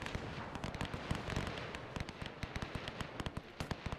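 Rapid bursts of machine gun and cannon fire in a WW1 video game battle against a cavalry attack, sharp cracks and thuds coming in dense irregular volleys and continuing steadily throughout.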